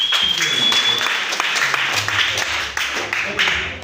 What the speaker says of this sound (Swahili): Anipigieni makofi.